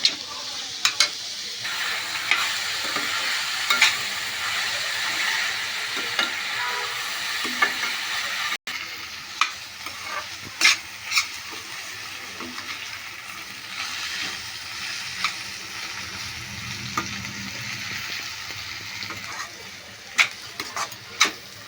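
Bitter gourd and onion pieces fry in oil in a covered pan, giving a steady loud sizzle with scattered pops and crackles, clear and close, with no voices.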